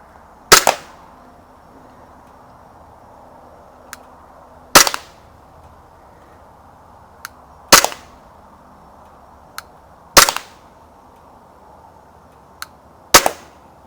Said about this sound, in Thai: เดี๋ยวเริ่มยิงเลยนะครับ เสียงมันไม่ดังมากนะครับ